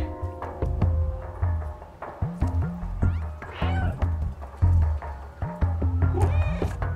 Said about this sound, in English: they can't hear my meow from over here